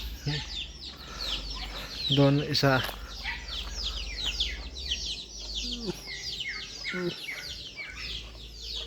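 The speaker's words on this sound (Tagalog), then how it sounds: "Ito yan manok ko guys. Ayan manok ko yan." Chickens cluck and chirp in bursts amid farmyard bird calls, with someone talking over them near the start.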